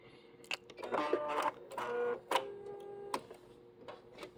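A Bernette B-77 sewing machine stitches in short mechanical bursts. It gives several distinct whirring runs and clicks with pauses between them, close up and with no voice over it.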